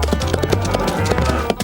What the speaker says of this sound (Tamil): இது ஒரு கிளைஸ்டே குதிரை மற்றும் ஒரு மாடு.